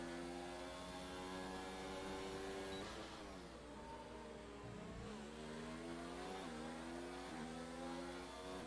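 Williams race car engine at Monaco in a racing video game, a steady high droning whine that climbs and dips through gear changes, heard faintly and continuously without any talk.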